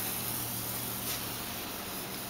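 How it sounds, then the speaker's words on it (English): Spray paint can hissing onto paper in a steady, close, continuous burst with no pauses, fairly quiet and heard alone. "hold it at kind of like a 45 degree angle away from the paper, kind of just halfly squeeze it."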